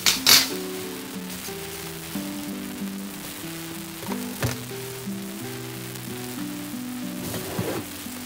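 Eggplants fry in a spoonful of oil in a pan for a stuffed eggplant dish, giving a steady sizzle. Occasional utensil clinks and scrapes cut through, and soft tonal music plays underneath.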